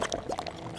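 Milk pours into a frosty glass in World of Goo 2 with a short, gurgling, bubbling burst of liquid sounds, close and brief.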